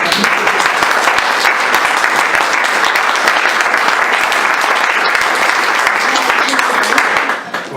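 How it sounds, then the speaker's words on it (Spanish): Sustained audience applause at a public talk opposing the TTIP trade deal, a dense, steady wash of clapping from a crowd that holds strong throughout before tapering off at the very end. "Juan Antonio quería un aplauso, ¿no, Juan Antonio?"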